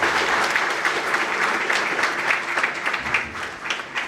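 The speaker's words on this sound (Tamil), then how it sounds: "ஒரு பலத்த கைத்தட்டல்" An audience at a motivational talk for students in Chennai claps loudly and continuously, a thick wash of applause holding steady for the whole four seconds.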